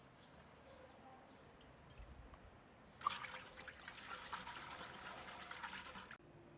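Water is poured and splashed over fresh butter churned from Gir cow milk by the traditional bilona method for ghee. A faint, rushing burst lasts about three seconds after a quiet stretch of handling noise.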